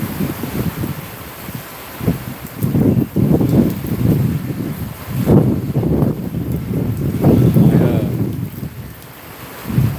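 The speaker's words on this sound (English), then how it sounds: "Oh, here's the heavy rain." Heavy rain pours down outdoors during a severe-weather outbreak in Tennessee, a loud, steady broadband roar that swells in gusty surges throughout.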